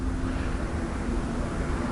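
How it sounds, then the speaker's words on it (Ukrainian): Steady crosswind buffets the microphone outdoors during winter spinning fishing near Kyiv, a low, rushing roar, continuous and fairly loud, with no voices. "Починає задувати боковий вітер."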